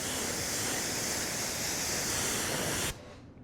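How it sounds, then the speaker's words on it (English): Water sprayed onto the unprotected paint of a Mini Cooper during a detail: a steady, loud hissing spray that runs continuously for about three seconds and then cuts off abruptly, leaving quiet background. "We're gonna spray some water on the car and show you that there's no protection on the paint."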